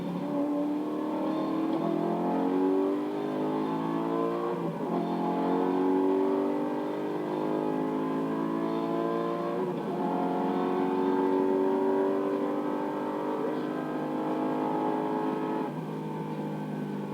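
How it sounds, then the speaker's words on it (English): A 2008 Corvette Z06 races hard at an airstrip, its engine note rising and falling through steady, continuous harmonics as it accelerates and shifts, loud and close throughout with no talk. "Corby Garner's 2008 Corvette Z06 performed beautifully throughout the weekend."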